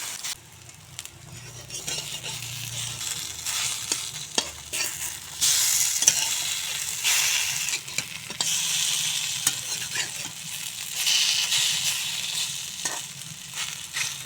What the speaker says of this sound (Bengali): সবগুলি বড়া এভাবে ভেজে নেব।